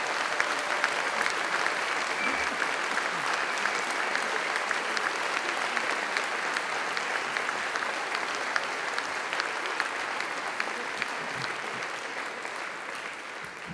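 A reception audience gives a long, sustained round of applause for the kitchen and service staff, a dense, continuous crackle of many hands clapping evenly for over ten seconds, with no speech over it.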